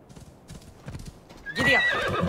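Hooves clip-clop in a quick gallop as a horse is ridden in the video game Assassin's Creed Odyssey, with a brighter whinny and a burst of louder hoofbeats near the end.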